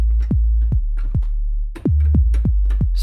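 Surge synth kick drum played dry without distortion: about eight punchy, deep thumps with sharp attacks and quick decays, in a steady rhythm that breaks briefly partway through, loud and alone.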